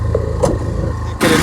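A 2020 Honda rototiller engine runs steadily with a mid-pitched mechanical drone, rising in a brief louder surge near the end, with no talking.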